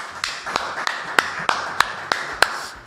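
Sparse, sharp claps from a small group ring out at a steady, unhurried pace at the close of a talk-show interview, spaced roughly a third of a second apart.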